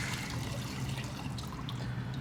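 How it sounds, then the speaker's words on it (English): Bourbon whiskey and shrub being poured back and forth between containers, a faint, soft liquid trickle and splash, close and quiet with no voices. "We're just going to pour right back in."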